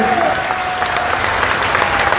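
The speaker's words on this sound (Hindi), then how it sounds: "नरेंद्र मोदी जी का स्वागत कीजिए, अभिनंदन कीजिए, तालियां बजा के।" A crowd at a BJP membership ceremony in a Gwalior marriage hall breaks into loud, close applause, a thick continuous patter of many hands that stays strong from start to finish, with a faint tone running underneath.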